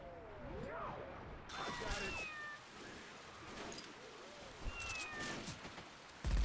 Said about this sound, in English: Aw, the kitty.